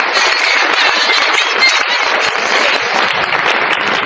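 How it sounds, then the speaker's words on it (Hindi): Sustained loud audience applause at a business seminar, dense continuous clapping from a large crowd filling the whole stretch without pause. "एक बार जोरदार ताली इनके लिए।"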